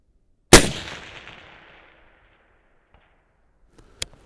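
Haenel CR6.5 rifle fires one sharp, loud shot with a decaying echo, then a faint metallic ping from the distant steel plate about three and a half seconds later.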